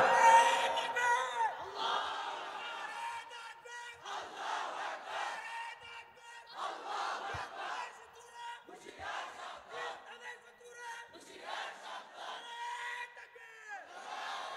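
A large crowd at an Islamic sermon gathering shouting the takbir, Allahu Akbar, in repeated loud unison bursts with short pauses between them, echoing across the open space.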